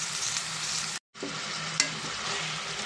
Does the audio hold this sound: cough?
no